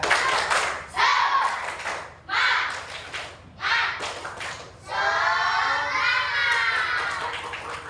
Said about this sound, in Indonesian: Dia berikan semangat dulu. Tepuk semangat.